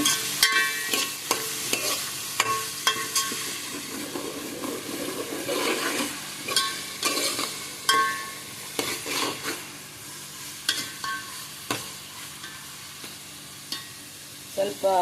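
Chicken pieces frying in a pan for chicken sukka, with a steady sizzle broken by repeated scraping stirs of a spoon against the pan, close and fairly loud, no talking.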